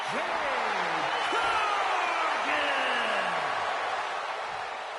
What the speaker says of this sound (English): The crowd has already experienced a hectic night tonight, but they are still so damn loud and energetic